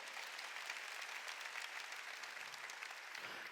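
Steady applause from a church congregation at a Sunday worship service, faint and distant, continuing evenly throughout without speech.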